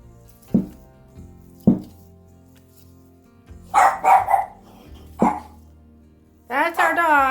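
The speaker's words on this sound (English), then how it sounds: "That's our dog." A pet dog barks in a home kitchen: two single sharp barks spaced apart, then a quick burst of three, another single bark, and a longer whining, yelping bark at the end, all close and loud.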